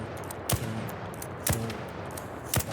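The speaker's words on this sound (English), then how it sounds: "We'll go ahead and test the fire rate." Three evenly spaced heavy shots from an upgraded weapon in ARC Raiders, each a sharp broadband crack with a brief low thump, standing alone over a steady game background hum.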